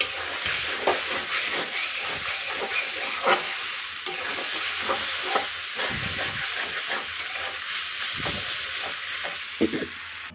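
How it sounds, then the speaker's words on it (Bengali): Spinach frying in a pan, a continuous loud steamy hiss and sizzle with repeated spatula stirring scrapes throughout. "শাক ভাজা হয়ে এসছে"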